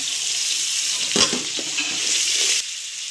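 Onion, garlic paste, cumin and salt hit hot oil in a pan for a sharp burst of sizzling frying and stirring that starts midway, swells briefly, then settles into a steady hiss, with no talking.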